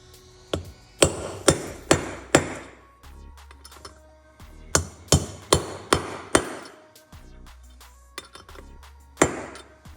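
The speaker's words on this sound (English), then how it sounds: "stick it down there, and then you pound it with the hammer." Sharp metallic hammer blows pounding a socket into an aluminum 409ci small-block Chevy engine ring out in quick bursts of several strikes, separated by short pauses, close and loud with clinking resonance.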